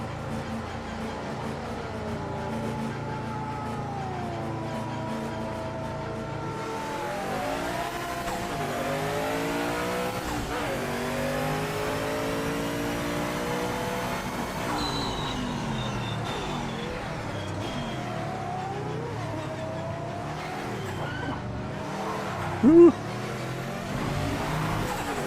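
A 2005 LMP1 prototype engine in Automobilista 2 racing at Kyalami, revving up and down continuously through gear changes and throttle lifts with a sustained loud whine, a brief tire squeal near the end, and a driver talking over it.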